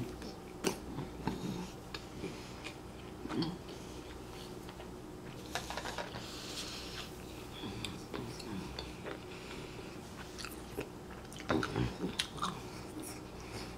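Someone bites into and chews a milk chocolate Easter bunny with almonds, giving faint, irregular close crunches and mouth sounds against a quiet, low background hum.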